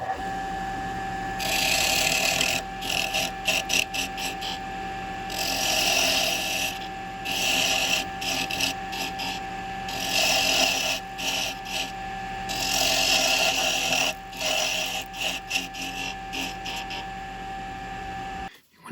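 A woodturning tool cuts into spinning wood while shaping the hat of a wooden snowman ornament, making loud rasping bursts of a few seconds each, separated by quieter pauses, with a steady lathe hum beneath and no talk.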